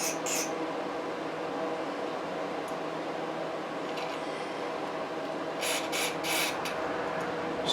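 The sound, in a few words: spray of cleaner on carburetor emulsion tube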